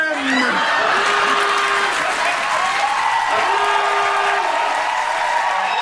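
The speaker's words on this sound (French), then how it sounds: "On applaudit nos trois improvisateurs" Studio audience applauding three improvisers on a televised improv comedy show, with steady, dense clapping mixed with some cheering and a whoop, all close and loud throughout.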